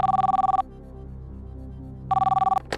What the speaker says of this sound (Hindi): रत्नेश पांडे लखनऊ से, और इन्हें फोन लगाया जाए कंप्यूटर जी।